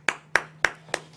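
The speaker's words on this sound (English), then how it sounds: "Big round of applause for David Alto." A handful of sharp, evenly spaced claps, four in quick succession, as a podcast audience welcomes a guest onto the show.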